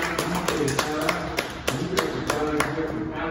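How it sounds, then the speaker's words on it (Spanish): Applause for a teacher at a small community event in Santana del Rayo, scattered hand claps with a few sharp distinct strikes standing out over a steady rustle, fairly close and moderate in volume. "le damos un caluroso aplauso"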